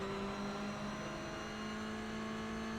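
A Porsche race car engine in the iRacing simulator holds a steady, loud drone with sustained tonal whine throughout, with no talking.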